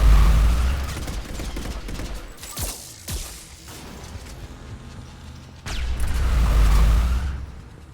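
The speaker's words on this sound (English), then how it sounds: "Where are the bullets flying with this rifle?" Rifle fire in Mass Effect 3, with loud bursts of shots and booming impacts at the start and again near the end, and quieter whooshes and scattered hits in between.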